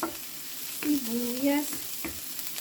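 Onions frying and stirred in a pan, soft sizzle with intermittent spoon knocks, while a voice hums or speaks briefly over it.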